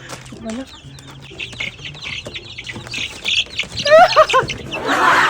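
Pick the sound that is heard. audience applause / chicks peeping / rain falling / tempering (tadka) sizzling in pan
chicks peeping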